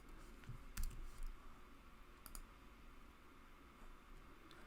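A few quiet keystroke clicks on a computer keyboard, scattered across a low background hiss with no talk.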